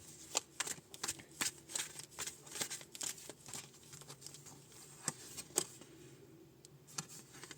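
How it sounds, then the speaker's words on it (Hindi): Tarot cards being shuffled by hand, a quiet crisp riffling and slapping with irregular sharp flicks repeating steadily, close and alone without talk. "अगर आप कार्ड्स शफलिंग को थोड़ा स्किप करना चाहते हैं तो टैप टैप करके स्किप कर सकते हैं"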